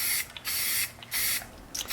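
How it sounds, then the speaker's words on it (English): Spray paint hisses onto West Elm pumpkins in three distinct bursts with short pauses between them, close and clear. "we're just going to start with a coat of spray paint"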